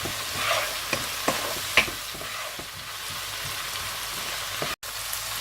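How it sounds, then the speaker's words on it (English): Onions sizzle with salt in a pan for an egg curry. A steady frying hiss continues while a spatula scrapes and stirs a few times, with one brief drop near the end. No one speaks. "I'm now adding also the salt. That makes the process a bit faster, and it will make the onions cook faster."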